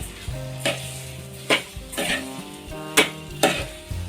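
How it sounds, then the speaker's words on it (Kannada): A spoon scrapes and clanks against a pan as sugar is mixed into pineapple kesaribath, about six sharp knocks over a soft hiss and a faint steady tonal hum. "ಸಕ್ಕರೆನೂ ಕೂಡ ಹಾಕ್ಕೊಂಡು ಮಿಕ್ಸ್ ಮಾಡ್ಕೊಳ್ಳೋಣ"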